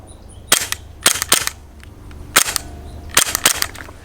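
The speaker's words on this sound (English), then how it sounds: "I'm going to do some testing here with the CoolFire training system for the P320 X5" Sharp, loud reports from a CoolFire training system fired in a P320 X-Five pistol, in quick pairs and clusters of snaps over a quiet background.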